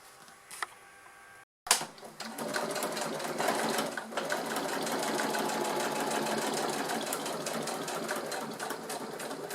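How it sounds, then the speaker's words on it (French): A sewing machine with a Teflon presser foot stitches through plastic and fabric for a waterproof zippered pouch, running in a steady continuous whir after a brief pause, close and clear with no talking. "Pour cette couture, je vais utiliser mon pied téflon pour que ça glisse bien sur le plastique."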